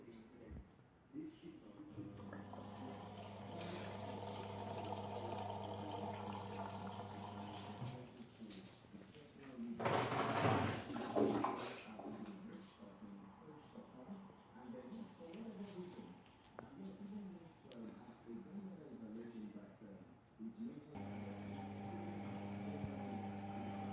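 An automatic washing machine runs a quick 60-degree wash with an 800 RPM spin, a steady motor hum with tonal whine and a louder churning surge midway.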